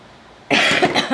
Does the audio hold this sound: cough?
yes